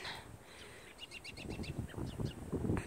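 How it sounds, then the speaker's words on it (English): Birds chirping overhead in early spring, a short series of quick high tweets repeating, with nearby rustling and low thumps beneath. "We've got birds up there chirping."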